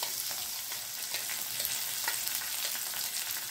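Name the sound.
curry leaves and ginger-chili paste frying in pan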